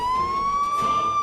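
An ambulance siren wails close and loud in one steady rising tone, heard alone with no talk.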